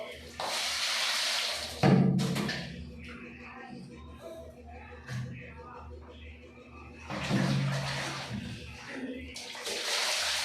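Tap water running into a laundry basin during hand washing of clothes, a steady rush that stops and restarts, fairly close, with people talking over it.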